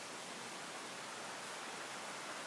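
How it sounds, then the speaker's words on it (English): Outdoor stream water runs steadily nearby in an even, unbroken broadband rush with no voices over it. "over the running waters behind me"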